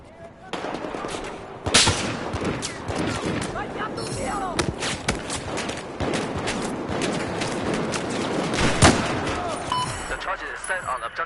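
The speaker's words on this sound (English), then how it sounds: "It's internally suppressed, but it actually flies pretty straight for being an internally suppressed sniper." An internally suppressed bolt-action sniper rifle fires in Battlefield 4, amid a busy battle of repeated loud gunshots and bursts of automatic fire, some close and sharp, with a voice talking over it.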